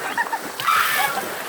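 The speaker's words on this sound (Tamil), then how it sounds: "பிடிச்சி இழுத்து தண்ணிக்குள்ள தள்ளிட்டாங்க. தண்ணி தொட்டிக்குள்ள இழுத்து நம்ம முக்கிட்டாங்க." A short splash as a person is pushed into a water tank, brief watery slap and slosh amid voices nearby.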